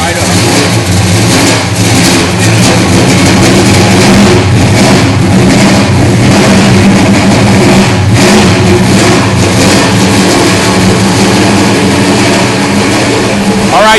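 A 1970 Dodge Charger R/T engine, started cold after sitting ten days, runs loud and close with revving surges over a continuous rumble, with voices talking over it.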